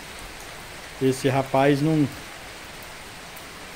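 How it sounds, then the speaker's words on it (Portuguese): Steady rain pours down during an exterior wash of a Ford Ka, a dense even hiss of drops and running water throughout, with a voice speaking briefly over it in the middle. "E tá chovendo, ó."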